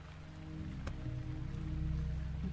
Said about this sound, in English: we were getting some rain in